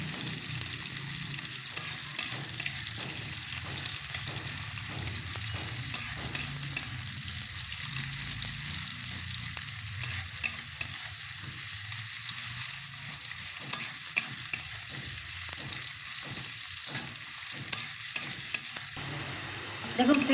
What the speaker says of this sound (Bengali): পেঁয়াজটা অল্প ভাজা হওয়া পর্যন্ত অপেক্ষা করব